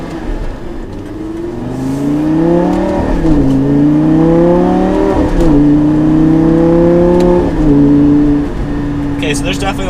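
A Lamborghini engine revs through a turn after a quick rev-matched downshift, rising and falling in pitch over a steady road roar, loud and close inside the car.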